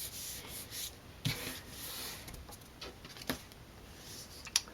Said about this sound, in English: Turn the card over and burnish it just with my hand.